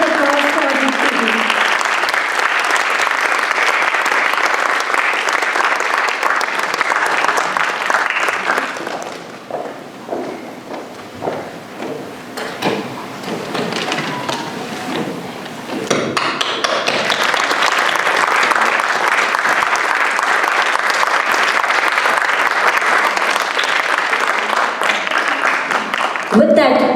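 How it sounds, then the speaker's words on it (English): A large audience applauds at a book launch and reading for actress Deepti Naval, loud sustained clapping that dips into lighter scattered claps mid-way before swelling back to full applause. "Big round of applause for Deepti ji."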